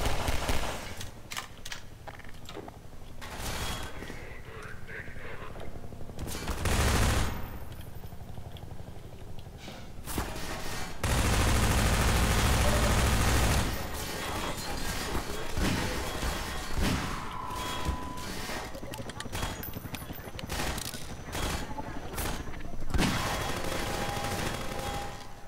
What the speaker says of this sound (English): I'm sniping these guys pretty effectively.